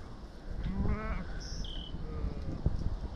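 Goats on a farm where Dexter cattle are also kept, with one nearby wavering bleat and a few fainter calls over low outdoor background noise and a brief knock.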